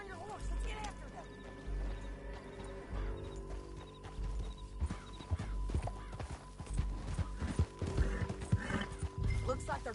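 Rhythmic clip-clop of horse hooves galloping in Red Dead Redemption 2, with a horse whinnying and talk over it, against a game-like background score.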